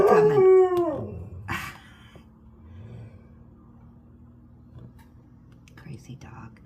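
A dog howls loudly and close by in a single rising, wavering cry that fades within about a second, followed by a quieter room with a low steady hum and a few faint sounds.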